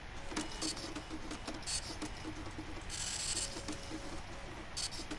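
An in-game printer in Fallout 76 running, with repeated mechanical clicks, ratcheting ticks and short whirring bursts over a steady hum, moderately close and without speech.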